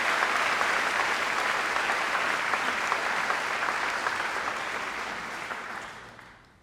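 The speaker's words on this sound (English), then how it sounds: "she deserves another round of applause" Sustained, enthusiastic applause from a large audience at a university graduation ceremony, loud and even before gradually fading out at the end.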